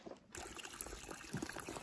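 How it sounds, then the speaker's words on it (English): Cold spring water trickles out of the ground at an icy, unfrozen water source along the Appalachian Trail, a faint, steady babble of small splashes with no talking. "it's just coming out from the ground, so it's a nice cold water source that hasn't frozen yet"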